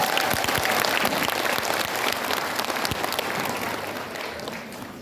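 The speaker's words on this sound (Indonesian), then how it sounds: "Tepuk tangan dulu buat para pahlawan." A large audience at a religious lecture claps steadily for several seconds, a dense, loud wash of applause that fades a little toward the end.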